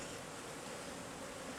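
Bees buzz in a dense, steady drone around a beekeeper working a hive in warm weather, a continuous close swarm hum with no pauses and no voices.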